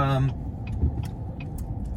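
A car rolls past on a residential street in Sugar Creek, Sugar Land, Texas, its broad tire and engine noise steady and nearby, following a brief voice at the start.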